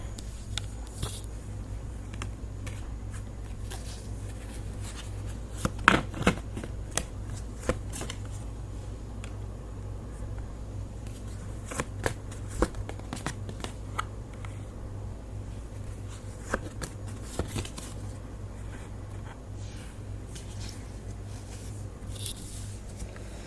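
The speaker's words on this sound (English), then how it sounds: "So let's pull some more cards on that and see what's happening." Tarot cards are shuffled softly and continuously, a quiet rustling riffle punctuated by occasional sharper card snaps and taps, close by over a low steady background hum with no talking.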